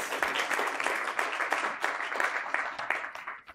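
An audience at a community comprehensive plan presentation in a library claps steadily, a dense, continuous wash of applause that holds at an even level throughout.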